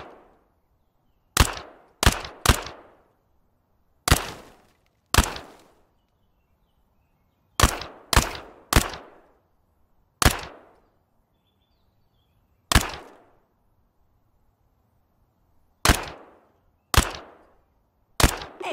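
Single gunshots fired at targets through soft cover on a shooting range in the Thunder Tier One tutorial, about a dozen sharp separate cracks, some in quick pairs and triplets, loud and alone with quiet gaps between them.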